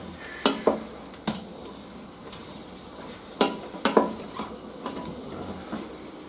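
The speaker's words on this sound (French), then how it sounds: "je rajoute les oignons. Voilà. Et pareil, on remue." Onions stirred in a pan for ratatouille, with soft sizzling underneath and a few sharp clinks of a utensil against the pan at irregular moments, close and moderately loud.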